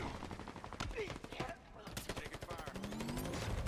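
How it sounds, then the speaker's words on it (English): Rapid bursts of automatic gunfire in a Halo Infinite multiplayer match, evenly spaced shots in quick rhythm, moderately loud with a brief pause midway, with some speech mixed in. "Now that guy's coming out shooting you from behind."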